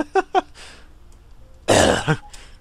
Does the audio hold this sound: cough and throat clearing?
yes